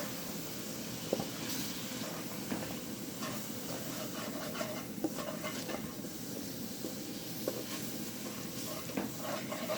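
Maize flour is stirred into a pot of soup, producing a faint, steady scraping and simmering texture with occasional soft clicks of a spoon against the pot.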